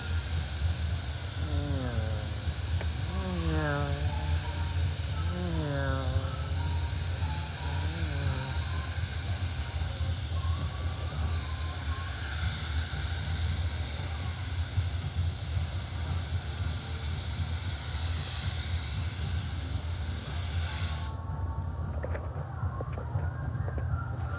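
A spray gun lays a second coat of paint across a panel during scratch repair, producing a steady, close hiss for about twenty seconds before it cuts off abruptly. Faint chirping sounds come through underneath.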